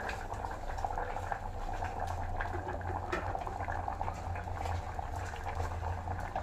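A steel pot of broken wheat vegetable biriyani boils steadily on the stove, with continuous bubbling and low rumbling throughout, close and even, with no talk.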